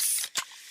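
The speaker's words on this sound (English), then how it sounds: "that's the sound of a freshly opened fizz-filled Pepsi" A freshly opened fizzy Pepsi cola gives a close, hissing spray of carbonation that breaks off, then a short sharp pop-and-fizz burst before fading into quiet.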